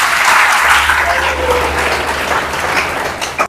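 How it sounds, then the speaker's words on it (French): An audience claps steadily and loudly for about three seconds at a French talk on self-employment, with a low hum beneath and a brief burst near the end. "On s'acclame parce qu'on est merveilleux."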